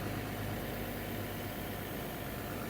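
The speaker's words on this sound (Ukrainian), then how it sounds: "А ось так працює самопромивний фільтр." A self-cleaning drum mesh filter runs on an irrigation pump station watering a potato field, giving a steady, even mechanical rushing hum with no pauses or talk.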